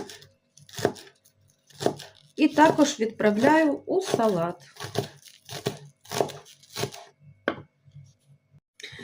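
Brisk knife chopping of green onions on a cutting board, a quick run of crisp taps while someone talks over it.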